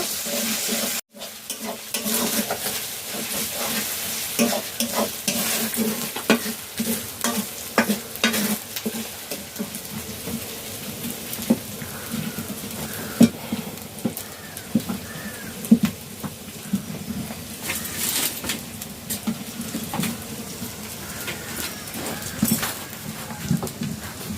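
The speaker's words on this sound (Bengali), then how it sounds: "এবার আমি নাড়াচাড়া করতে থাকবো" Thinly sliced garlic and grated ginger stir-fried in a pan, a continuous crackling sizzle broken by frequent scraping and tapping of the spatula, close and fairly loud with no talking.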